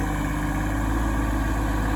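Sub-compact tractor engine running steadily while scooping dirt, a constant close droning hum with no voices and no change in pitch or level.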